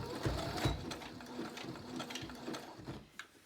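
A sewing machine zigzag-stitches a folded fabric mask, its needle chattering in a steady mechanical rhythm close up, with no talk.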